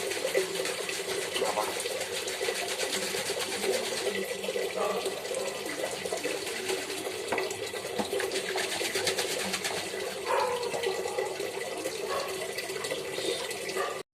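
Water pours steadily from a tap into bottles being filled in a home kitchen, a continuous close splash and gurgle with faint background noises and no clear talk.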